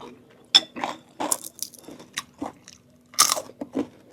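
Crunchy food, eaten with Thai-style boiled vegetables and fermented fish chili dip, is bitten and chewed up close in a run of crisp, irregular crunches with short pauses between bites.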